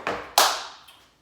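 Two sharp hand claps in a body percussion routine, close and crisp, the second louder, each ringing out briefly in a small room with no talking.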